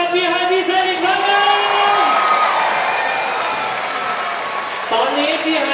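Concert audience at Safari World applauding and whooping for a performer, steady and loud throughout, under sustained music tones and a talking host.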